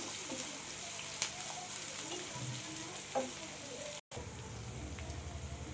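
Chopped onions sizzle and fry in hot oil in a pan while cooking chicken tikka masala, a steady, soft crackling hiss with occasional stirring clinks, heard alone at low level.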